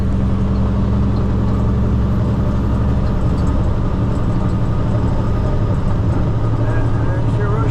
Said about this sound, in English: There's your rush hour traffic headed the other direction.